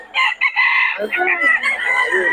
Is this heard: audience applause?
no